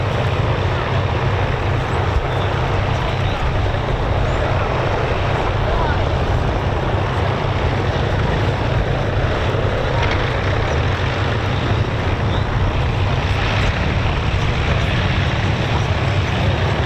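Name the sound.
Mosquito and Lancaster Just Jane aircraft taxi runs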